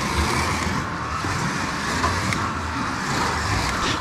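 Slot car on a track, a BRM model with front-wheel-drive rivals nearby, its small electric motor and gearbox whirring in a steady, even high-pitched hum with no pauses.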